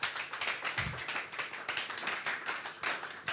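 Church congregation clapping together for the word of God, a steady crackle of many hands applauding in a reverberant hall, fairly even and sustained throughout.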